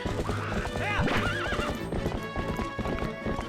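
A horse in the video game The Legend of Zelda: Twilight Princess HD gives a loud whinny over rapid, rhythmic galloping hoofbeats, with a game music bed underneath and no talk.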